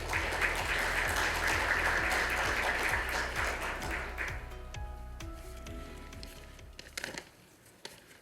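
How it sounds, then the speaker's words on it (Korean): Applause from the audience at the opening ceremony of an academic conference welcoming the next speaker, steady and full for several seconds, then thinning out into scattered claps and room noise. "큰 박수로 환영해 주시면 감사하겠습니다."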